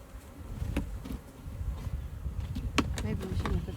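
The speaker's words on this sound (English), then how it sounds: "now we need to make bees mad" Agitated honeybees being shaken down into a hive box, a dense droning buzz close by with scattered knocks and bumps, and a voice speaking over it.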